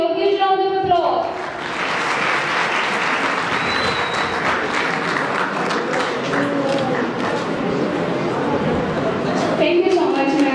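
Audience applause at a Balochistan public speaking and Scrabble competition as a participant goes on stage to receive a shield, loud sustained clapping for about nine seconds, with a voice talking briefly at the start and end.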